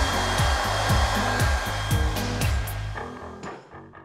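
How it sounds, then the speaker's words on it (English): A hair dryer blows steadily up close over a gold leaf bowl, its whirring hum rising and dipping rhythmically as it is waved back and forth, then winding down. "you want to continue to use the hairdryer until it's all completely dried"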